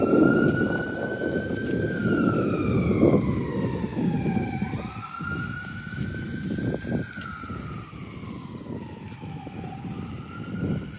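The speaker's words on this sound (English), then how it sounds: "Siren ambulance going by" An ambulance siren wails in slow rising and falling sweeps over rumbling traffic, holding loud as the vehicle passes.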